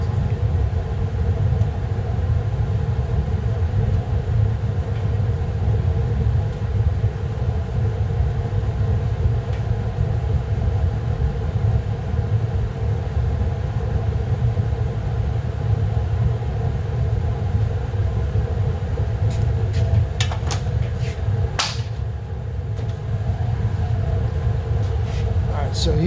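A large used-oil burner with a turbo fan runs as a loud, steady low roar and rumble, constant throughout, with a few brief clicks or clanks near the end.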